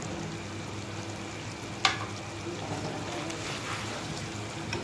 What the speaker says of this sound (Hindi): अभी इसको अच्छे तरीके से जो है ना भून लेंगे